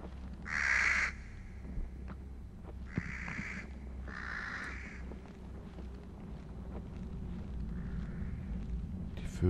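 Birds in the horror video game Don't Scream give several short hooting, owl-like calls in bursts over a quiet ambient background, fairly faint and spaced out.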